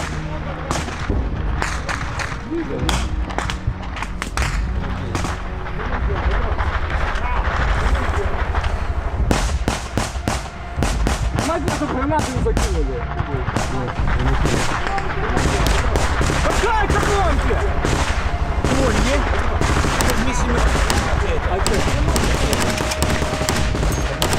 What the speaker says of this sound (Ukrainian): the enemy is still firing on them